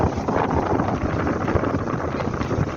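Cold, strong wind blows steadily at a riverside fishing camp on a chilly day, a continuous broadband rush buffeting the microphone for the whole moment with no voices.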